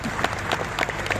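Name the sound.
audience clapping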